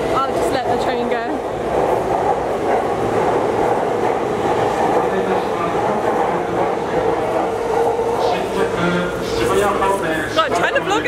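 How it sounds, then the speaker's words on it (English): A late-night train pulls out of a Tokyo station on the line to Ikebukuro, a loud, continuous rumble and rattle of rail cars that builds and fades, with faint chatter from the platform. "I'll just let the train go."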